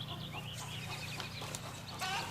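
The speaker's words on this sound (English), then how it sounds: "All right, chicken, you're off the team. I'm getting rid of that noise." A chicken squawks and clucks at a camp lot at night, faint and somewhat distant, in short repeated bursts over a low steady hum, with no talk.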